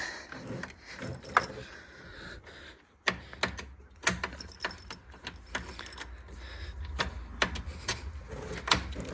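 A key jiggles and rattles in the ignition of a 1972 MGB that has sat for nine months, with irregular close metallic clicks and jangles over faint mechanical background noise.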